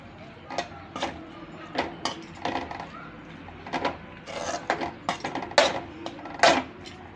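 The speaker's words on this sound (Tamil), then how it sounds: "பாஸ்தாவை போட்டாச்சுங்க. கிளறிக்கலாம்." Macaroni pasta being stirred in a pan with chilli powder, curry masala and cumin powder, giving irregular clacks and scrapes of a utensil against the pan, close and moderately loud, with no speech.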